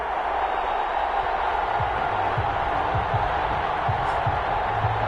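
Steady roar of a stadium crowd in an NFL video game on PS4, a Falcons versus Lions matchup, a constant dense wash of cheering with faint low thumps, no clear talk.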